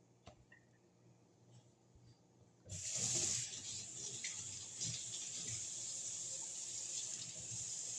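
A kitchen tap switches on and runs steadily to rinse Japanese rice before it goes into the rice cooker. The water makes a close, continuous hiss and splash that carries on to the end after a quiet start.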